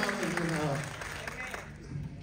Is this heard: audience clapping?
yes